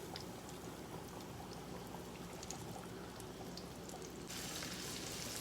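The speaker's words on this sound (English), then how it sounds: "want your grease really good and hot when you first drop them in there, just like in anything else that you're frying" Potato pieces frying in hot grease, giving off a steady, dense crackling sizzle that runs throughout, growing slightly brighter and louder near the end, with no voices.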